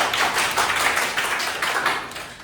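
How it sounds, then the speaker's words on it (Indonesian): Students clap together in a classroom at an Islamic junior secondary school, a brief burst of fairly close, scattered hand claps that pulse in a few rough waves and stay steady before easing slightly at the end. "Nah, tepuk tangan dulu."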